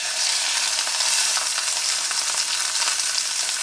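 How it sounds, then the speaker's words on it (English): Stuffed flank steak rouladen, wrap side down, sizzling steadily in a hot pan, a dense, loud, continuous frying hiss with fine crackles and no voices. "That's a nice sizzle."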